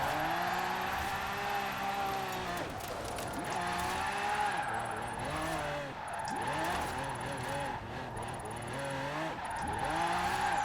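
A custom drift car in Forza Horizon 4 sliding with repeated tire squeal and skidding, the engine revving up and down in long swooping pitches, loud and close with faint talk over it.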